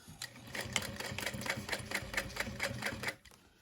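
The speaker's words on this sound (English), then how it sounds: "and now we're going to top stitch" A sewing machine top stitches a wider handmade backpack near its zipper, its needle running in a steady rapid chatter of evenly spaced clicks for about three seconds before stopping abruptly.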